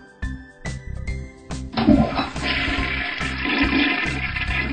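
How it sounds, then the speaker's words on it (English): A toy potty being flushed, a playful tinkling jingle followed by a loud rushing flush that fills the rest of the moment, close and clear with no talking. "Then we have to flush the potty."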